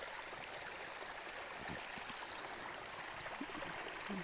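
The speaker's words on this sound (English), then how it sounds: "Water coming down the trail." Water running down a hiking trail on the Appalachian Trail, a steady broadband trickling and streaming rush that stays close and even throughout, with no talking.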